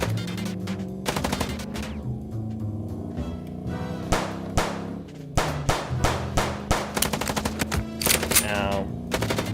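Video game gunfire from Chicken Police: repeated sharp bursts of shots in clusters, some rapid like automatic fire, loud and close over a steady low background score.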